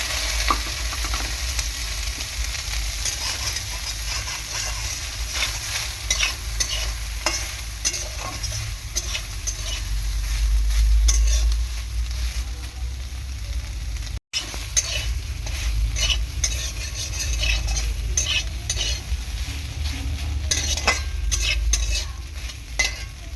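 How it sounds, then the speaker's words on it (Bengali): Soybean chunks fry in hot oil with a steady sizzle and frequent crackles, while a utensil stirs and scrapes the pan. The sound runs continuously apart from one brief dropout. "সয়াবিনটাকে ভালো করে আমি তেলের মধ্যে ভেজে নেব।"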